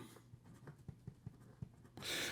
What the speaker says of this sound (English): Here we go with the writing sample for the OMAS Ogiva.